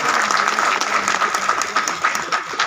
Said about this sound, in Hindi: तो इसके लिए महोदय के लिए एक बार ताली बजा दीजिए।